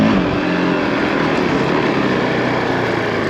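Honda CRF450L enduro motorcycle ridden around Foxborough Quarry: a loud, close, continuous single-cylinder engine drone held at steady revs with no talk.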